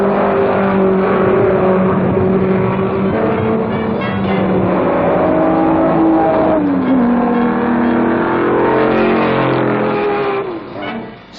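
Lotus-engined race cars roar steadily at high speed at Sebring, their pitch sliding as they shift, with a loud continuous drone that fades slightly at the end.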